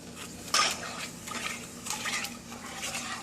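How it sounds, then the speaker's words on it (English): Sugar solution for Mexican rock candy being stirred in a pot, with a sharp metallic clink at the start followed by steady scraping and swirling of a spoon against the metal. "After you have this ready, you stir it up"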